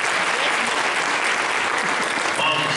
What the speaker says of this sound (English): Could we give moms a hand clap, please?